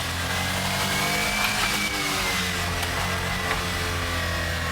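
A mini truck engine strains at high revs after a downshift, a loud continuous droning whine that holds steady over road and wind noise.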